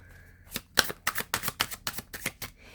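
Tarot cards shuffled by hand in a quick run of about eight crisp riffling bursts, close and fairly loud, with no talking.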